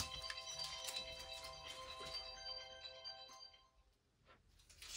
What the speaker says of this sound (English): that's my mother ringing